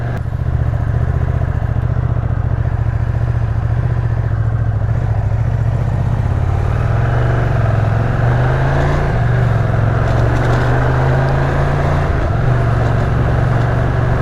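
Ducati Streetfighter V2 motorcycle engine idling and running steadily, a loud, deep rumbling drone that holds close and constant throughout with no talk over it.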